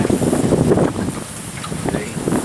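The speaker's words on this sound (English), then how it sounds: "Oh, it's very windy." Wind roars and buffets across the microphone in a steady rush at a lake park, with a voice talking under the gusts.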